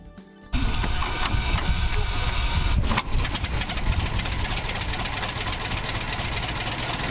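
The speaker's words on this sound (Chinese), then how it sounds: "从汽车后方启动引擎，拥有百年历史的福特 T 型车以时速40公里的速度前进" A century-old Ford Model T is cranked from the rear outside a Michigan car museum. It catches after a brief quiet moment and runs loudly and steadily, with a busy mechanical clatter and knock, alone and close by.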